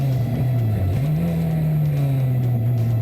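Porsche 944 race cars charge down into turn 1 at the start of a race on cold tyres, a dense, steady engine drone with a slight dip and swell in pitch, loud and continuous with no voices.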